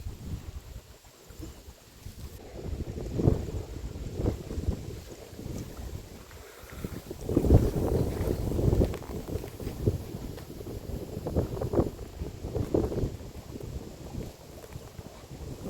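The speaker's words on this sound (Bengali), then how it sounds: "কিন্তু এত জোর হাওয়া আসছে।" Strong gusts buffet the microphone beside the Ajay river, a steady rumbling roar that swells and surges, loudest around the middle, with no voices over it.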